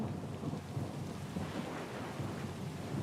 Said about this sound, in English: The storms get pretty loud.